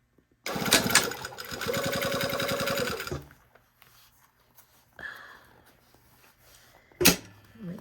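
A sewing machine runs steadily for about two and a half seconds stitching the side seam of a Style Arc Ziggi garment, followed by quieter handling clicks and a brief knock.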